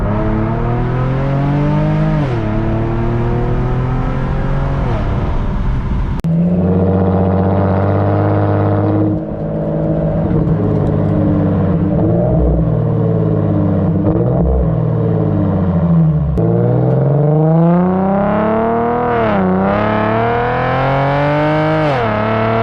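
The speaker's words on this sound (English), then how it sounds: "you getting nothing but exhaust, the actual exhaust tone" An Infiniti G37X fitted with Vibrant resonators is being driven. Its exhaust rumbles loud and close, rising and falling through repeated revs and gear changes, with sharp cuts between pulls.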